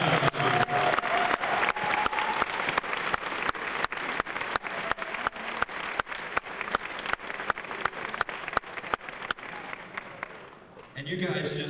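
Audience applause for Bruce Chopnik, International Mr. Leather 1999, at a leather contest event: sustained loud clapping from a large crowd with scattered cheers, fading near the end.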